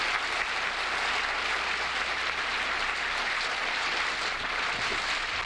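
A TV studio audience applauds at a 1973 game show taping, a steady wash of clapping that holds evenly for the whole stretch with no talk over it.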